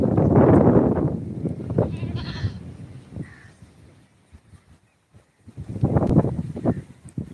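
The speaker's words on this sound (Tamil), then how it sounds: "ஆட்டுக்குட்டி பாருங்க" Lambs bleat several times, fairly close, with bursts at the start and again near the end separated by a quieter stretch; no talking.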